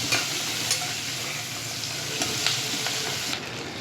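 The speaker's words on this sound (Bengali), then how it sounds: "দেখতে পাচ্ছ পেঁয়াজ এবং শুটকি মাছটা বেশ ভাজা ভাজা হয়ে এসছে" Chopped onions and dried fish fry in a pan with a steady, close sizzle, broken by occasional light scrapes of a stirring utensil.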